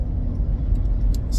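A Land Rover Defender cruises along the road, giving a steady, loud low rumble of engine and road noise inside the cabin, continuous and without talk.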